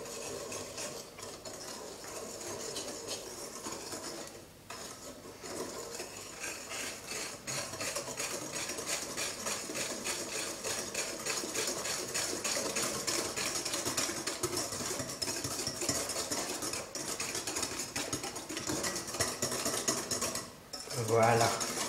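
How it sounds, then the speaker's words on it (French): Waffle batter is folded and stirred in a bowl, a continuous close wet churning and scraping with soft utensil clicks, steady throughout and ending with a louder knock. "Retournez la pâte peut être une bonne technique pour que ça s'assimile bien avec le reste du mélange"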